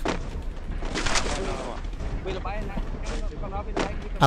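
Gunfire in a video game: repeated broadband shots and booming bursts run throughout, with a louder blast at the very end, while someone talks over the shooting.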